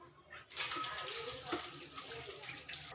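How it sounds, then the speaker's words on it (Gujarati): Onions being rinsed in water, a brief close splashing and rushing of water that starts abruptly and continues steadily for a few seconds. "આપણે આ ડુંગળીને ધોઈ લઈશું"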